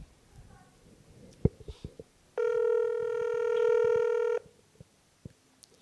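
A steady telephone line tone lasting about two seconds as a call is placed to a guest on a news talk program, with faint clicks and rustling before and after.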